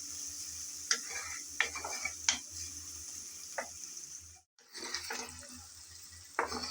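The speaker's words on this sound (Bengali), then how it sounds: "পেঁয়াজ আমি নেড়ে চেড়ে হালকা ব্রাউন কালার করে ভেজে নিয়েছি।" Onions fry in a pan to light brown, giving a steady soft sizzle with scattered scraping clicks as they are stirred, heard alone at a low level.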